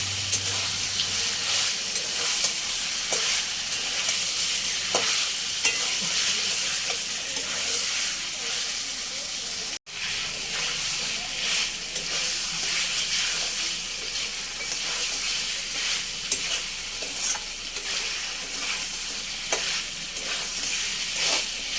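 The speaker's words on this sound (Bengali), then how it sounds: "চিকেনটা এইভাবে 5 মিনিট ভেজে নেবো তেলের উপরে" Chicken pieces sizzle and spatter continuously in hot oil for a long stretch, loud and close, with occasional scrapes of stirring and no voices.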